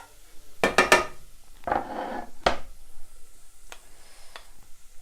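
Garlic goes into a pan of browned onions, with several sharp metallic clinks of a utensil against the pan and a brief sizzling scrape, then quieter taps, close and otherwise calm.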